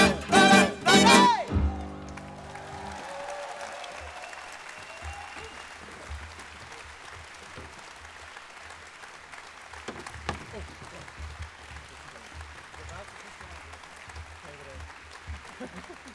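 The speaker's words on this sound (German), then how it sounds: "Ich weiß überhaupt nicht, was es da zu klatschen gibt." An audience in a large trade-fair hall at a talk show bursts into applause, first under loud overlapping voices, then a sustained, moderately distant clapping with scattered louder claps continuing for many seconds.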